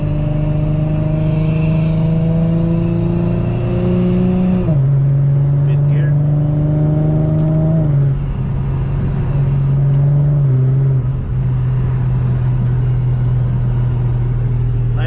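An Infiniti G37 with an updated transmission pulls hard in fourth gear, its engine drone climbing steadily in pitch from inside the cabin, dipping briefly at each shift point, loud and continuous.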